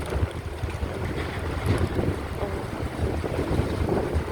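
Strong wind and rain sweep across an outdoor mor lam concert stage set up in a shopping mall parking lot, heard as steady, loud rumbling gusts buffeting the microphone with no break.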